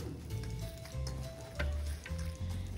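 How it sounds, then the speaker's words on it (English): An egg being worked by hand into raw homemade meatball mixture, giving a soft, steady wet squishing and stirring with no speech over it. "Next thing I'm going to add is one egg. And mix that in."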